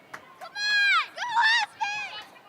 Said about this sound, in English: We'll let the Red Deer crowd bring it home.